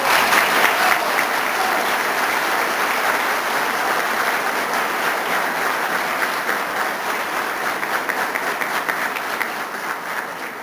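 Sustained audience applause at a Guatemalan legal forum on constitutional reform, welcoming an invited guest: dense, steady clapping from a crowd that holds loud for about ten seconds and eases slightly at the end.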